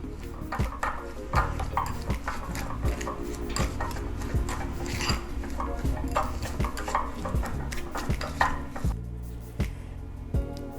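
Butter being rubbed by hand over a large, heavily salted prime rib roast: close, continuous soft rubbing and squishing with occasional light knocks and scrapes, steady throughout with no talking.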